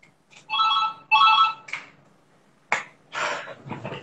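Mobile phone ringtone chiming in a few bursts of bright tonal notes, moderately loud and close, with short gaps and a couple of sharper sounds between rings; no talking.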